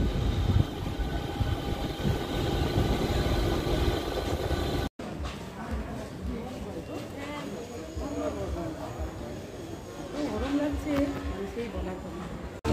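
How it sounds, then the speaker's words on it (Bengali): A moving passenger train gives off a steady, continuous rumble and clatter, with a brief break partway through and faint voices in the background. "ট্রেন ছেড়ে দিয়েছে।"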